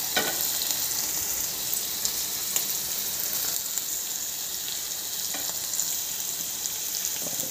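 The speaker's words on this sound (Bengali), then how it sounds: "এগুলো ভাজা হয়ে গেছে, গাজর মটর ভাজা হয়ে গেছে।" Carrots, peas and paneer fry in a pan with a steady, crackling sizzle, close and constant, with faint stirring ticks and no voices.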